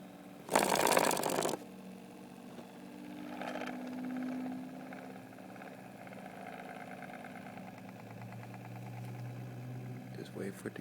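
A Bendini pulse motor starts with a loud burst of about a second, then settles into a quieter, rising mechanical whir and hum as it spins up, with a voice talking over parts of it.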